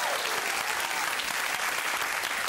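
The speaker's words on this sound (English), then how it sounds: "And a round of applause for Heath Franklin." Studio audience at a Christmas music quiz show applauding a guest, loud dense continuous clapping throughout the short stretch with no talk.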